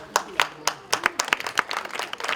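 Audience applause at an award ceremony during a folk theatre workshop event, a burst of scattered, uneven hand claps from a modest crowd, fairly close and moderately loud with no talking.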